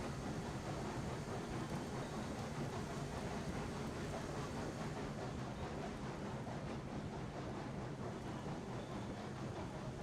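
A freight train hauls ore cars near a smelter in the railroad game Railroads Online, a steady low rumble and rolling drone that holds evenly throughout.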